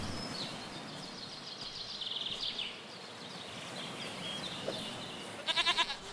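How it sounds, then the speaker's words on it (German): A goat in the survival game Force of Nature bleats a few times, short wavering calls over a quiet ambient bed with a faint insect-like buzz, the last bleat loud and close. "Was sehe ich da vorne? Eine Ziege."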